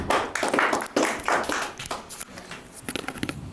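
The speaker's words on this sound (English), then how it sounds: "we would love to have a round of applause for everybody on stage" A small audience at a university panel event in Davos gives a short, patchy round of applause, a few hands clapping unevenly and fairly quietly at close range, then fading out.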